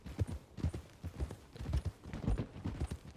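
Steady clip-clop of horse hooves in Red Dead Redemption 2, a quick, even rhythm, fairly close and clear, with no voices over it.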